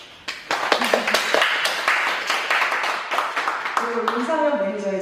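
A church congregation applauds to welcome a guest, the claps starting abruptly and spreading into a mass of overlapping hand claps. Near the end, talk and a sustained musical tone rise over them.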